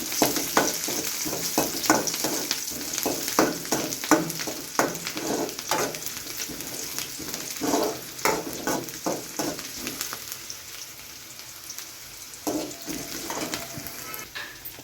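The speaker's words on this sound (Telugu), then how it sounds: "జీలకర్ర కరివేపాకు ఉల్లిపాయలు వేసుకొని బాగా ఫ్రై అవనివ్వాలి" Onions frying in a pan with cumin and curry leaves, a steady sizzle broken by repeated scraping stirs up close, quieter toward the end with no talk.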